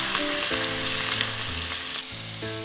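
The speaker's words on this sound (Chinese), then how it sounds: "热锅起油，下姜片煸香，倒入蚌肉略微煸炒" Mussel meat and ginger slices being stir-fried in hot oil in a wok, with a steady bright sizzle and soft stirring scrapes, close and continuous, with no talk.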